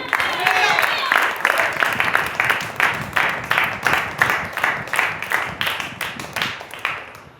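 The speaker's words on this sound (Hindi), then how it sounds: "ताली दो।" A church congregation claps together in steady rhythmic unison, with loud, even beats running throughout, and voices join in beneath the clapping.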